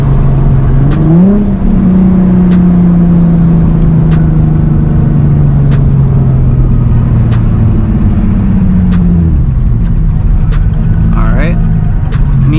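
Nissan 350Z HR with a Tomei exhaust revs up loud and close from the driver's seat, the engine note climbing and falling through gear changes with blips on the downshifts, plus faint clicking in the cabin throughout.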